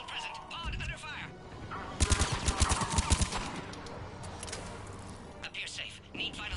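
Video game gunfire, a rapid run of repeated shots in a steady burst amid other game effects, with voices speaking around it.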